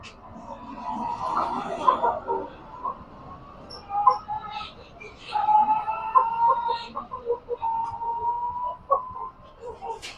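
A pet hen clucks in repeated short tonal calls, fairly close and moderately loud, in loose bursts over a steady low background.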